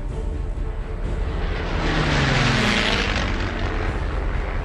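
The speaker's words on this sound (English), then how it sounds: "The Lockheed P-38 was an extraordinary airplane." A Lockheed P-38 twin-engine fighter flies past, its propeller engines giving a loud, steady roar that swells in the middle with a falling pitch sweep, filling the whole stretch without talk.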